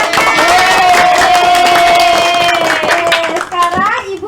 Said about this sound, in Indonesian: Aplaus untuk teman-temannya.